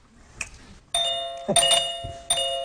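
A man on an improv comedy stage imitates a doorbell with his voice, giving sustained ding-dong tones in two or three bursts, loud and close, with no other talk.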